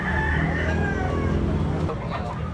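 A yellow-legged, regular-size young gamefowl rooster (bullstag) crows loudly and close in a drawn-out call, with clucking and other fowl around it.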